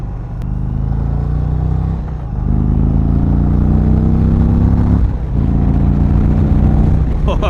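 A 2020 Indian Chieftain Dark Horse motorcycle accelerates hard on a test ride, its loud engine rising in pitch through several gears with brief dips at each shift, and a rider talking over the steady roar.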